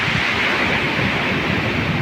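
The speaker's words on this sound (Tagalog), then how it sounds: "Lalaki ng alon, oh." Big ocean waves roll onto the shore on a Saturday morning, a loud, steady wash of surf with heavy wind rumble across the microphone and no pauses.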